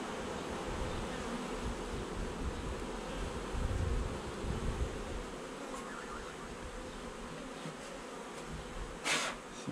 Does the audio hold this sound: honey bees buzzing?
yes